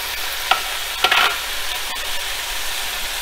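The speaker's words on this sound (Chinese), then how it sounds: "翻炒一下， 然后加入这个新西兰的罐装牛肉" Canned New Zealand corned beef is stir-fried with potatoes in a pan, a constant close sizzle broken by a few clacking spatula strokes and scrapes against the pan.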